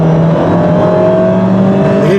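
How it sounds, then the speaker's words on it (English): A 2017 Fiat 124 engine revs as the car accelerates on an open road, a loud close drone that climbs in pitch near the end. "now we're picking up RPM"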